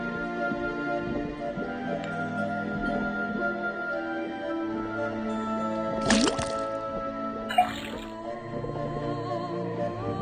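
Liquid dripping from a faucet in the detective video game Detective Grimoire: a couple of distinct drip and squish sounds stand out over a sustained background music bed, with no talking.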